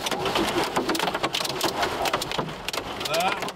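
Heavy rain and hail batter a car during a dangerous summer storm with urban flooding, a dense continuous roar with sharp irregular clatters of hailstones striking the body and glass, close and loud inside the vehicle.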